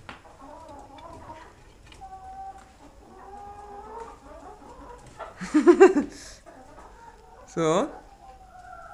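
Roosters on a small farm give a few short clucks and squawks, including a loud burst and a brief sharp call, over quiet background with occasional talk nearby.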